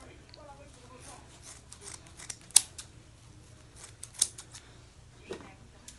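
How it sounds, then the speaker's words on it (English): Scissors snip through crochet locs during a summer braid install, a few sharp cuts standing out over a low steady hum, with a faint voice briefly heard. "And the back I will gladly cut from the base. Chop chop, snip snip, down and trim."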